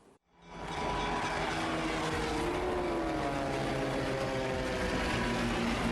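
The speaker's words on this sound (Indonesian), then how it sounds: "Video ini merekam detik-detik sebelum pesawat latih berjenis G-36 Bonanza T-2503 dilaporkan hilang kontak di perairan Selat Madura" Navy G-36 Bonanza propeller training plane flying over the Madura Strait, a loud continuous propeller drone rising in quickly and holding steady, with slowly shifting engine tones.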